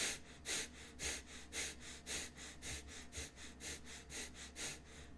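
Pranayama breathing focused on the exhale, with a rapid series of about a dozen sharp, forceful breaths in an even pump-like rhythm, close and fairly faint, no talking.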